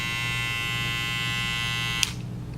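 A Wahl 5 Star Senior cordless hair clipper runs close and loud with a steady high-pitched electric buzz, then cuts off abruptly near the end with a short click.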